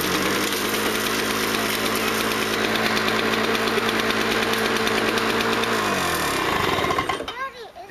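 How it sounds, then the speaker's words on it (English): A Greenspace lawn mower engine running loud and steady with a dense mechanical clatter, then cutting off abruptly near the end and winding down to quiet. "So in our little experiment, the mower started right up."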